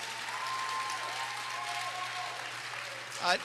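Audience at a Rockville Martin Luther King Day celebration applauds two contemporary dance companies, a soft, steady spread of clapping from a hall, faint and distant, with a brief louder sound near the end.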